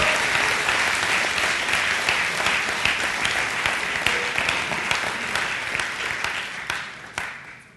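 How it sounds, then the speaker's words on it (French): A church congregation claps in praise of God at a Sunday service, dense sustained applause loud and close, fading slightly toward the end with a few sharper claps. "on applaudit le Seigneur."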